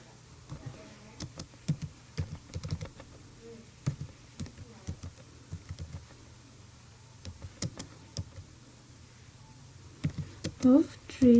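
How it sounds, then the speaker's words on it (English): Quick, irregular clicks of typing on a computer keyboard in short bursts with pauses, close and fairly quiet, with a faint voice near the end. "You have to hurry typing it."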